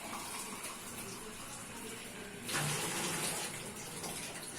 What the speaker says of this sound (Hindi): अब हम उतना पानी डाल देंगे जिस हिसाब से भी यखनी रखनी है